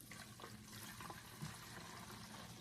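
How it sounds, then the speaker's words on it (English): Homemade weed killer is poured into a spray bottle, a quiet, steady trickle of liquid running continuously for a couple of seconds with no talking. "Gonna pour it into my bottle"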